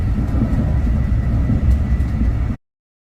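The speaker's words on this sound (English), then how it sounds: "Took that train right into the Miami airport" A moving airport train riding into Miami airport gives a loud, steady rumble and rattle from inside the car, which cuts off abruptly after a few seconds.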